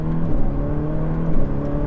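A Ferrari 488 Pista engine revving while driving, a brief, loud, close engine drone whose pitch sweeps up and settles, heard alone without talk.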